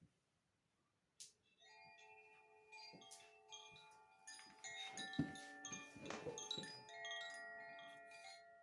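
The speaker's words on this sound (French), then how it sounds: "par l'énergie des carillons" Chimes ringing softly, a series of clear bell-like tones struck one after another and overlapping as they sustain and fade, quiet and unaccompanied.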